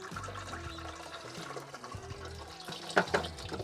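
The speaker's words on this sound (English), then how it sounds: "So I'm going to put half of that water into the tank through the filter here." Water is poured through a filter into a garden sprayer tank, a steady trickling, filling rush with a few louder splashes near the end and faint background noise.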